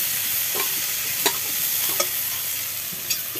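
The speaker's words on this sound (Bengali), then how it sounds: "এটা একটু ভাজা হোক" Jackfruit and prawn curry fries in a pan, a steady bright sizzle with a spatula scraping and tapping every second or so, close and alone.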